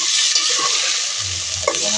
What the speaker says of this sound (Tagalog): Gisahin natin yung kalabasa mga idol.